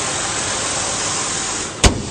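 A 2006 Honda Ridgeline RT 4WD crew cab pickup idles steadily with its hood open, a smooth, even engine hum that holds constant, then a brief sharp knock or clunk near the end.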